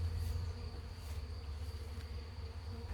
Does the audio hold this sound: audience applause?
no